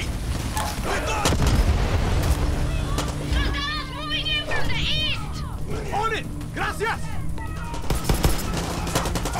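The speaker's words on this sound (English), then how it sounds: "Grenade! Grenade!" Far Cry 6 combat with a grenade blast and bursts of gunfire, loud and continuous across the scene, with shouting voices over the din.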